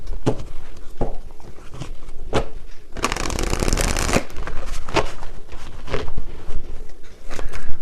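Tarot cards being shuffled in bursts of crisp riffling and slaps, with a longer dense shuffle in the middle, close by and with no talking.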